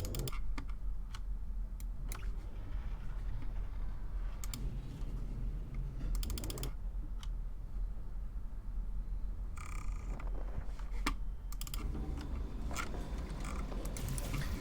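Computer keyboard typing while entering game inputs, irregular clusters of sharp key clicks and clacks close up, with short pauses between bursts and no talking.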